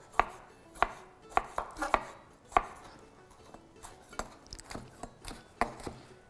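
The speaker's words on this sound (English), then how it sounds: "You're going to be doing a lot of chopping through this recipe." A knife chops food on a cutting board in a healthy-cooking teaching kitchen: about a dozen close, crisp thuds in an uneven rhythm, some in quick pairs, with no talking.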